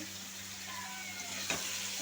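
Oil sizzles steadily in a pan as eggplant, potato and bay leaf fry with salt, a soft continuous hiss with a brief clatter near the end.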